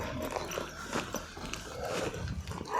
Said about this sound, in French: J'entends un chien